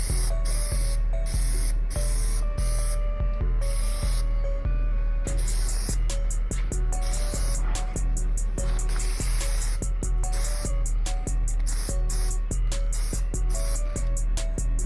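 Aerosol spray paint applied as a second coat over chrome, a loud continuous hiss broken into many short, rhythmic bursts, close and alone.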